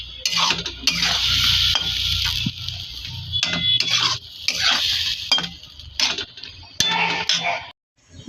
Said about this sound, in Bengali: মশলা কষানো হয়ে গেছে, এবার এতে অল্প পরিমাণ জল দিয়ে দিচ্ছি।